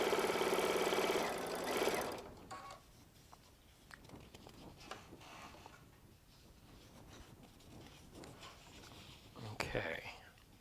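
A Baby Lock Solaris sewing machine with a 1/4-inch piecing foot stitches quilt squares in a loud burst of rapid stitching lasting about two seconds. Quieter handling noises and a voice follow.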